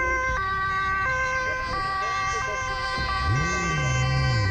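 An ambulance siren on an escorted emergency drive through Zoetermeer plays a steady two-tone pattern, close and loud, before a second siren sweeps upward near the end over road traffic.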